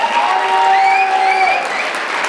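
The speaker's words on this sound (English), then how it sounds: "They deserve a tremendous round of applause." Dinner audience applause at a school anniversary gala, a steady wash of clapping throughout, with a few high tonal whistles or squeals sliding over it.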